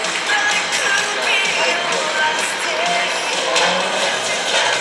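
Loud, continuous clapping from a crowd at a Tokyo Auto Salon stage promotion for the drift film ALIVEHOON, with some cheering mixed into the steady wash.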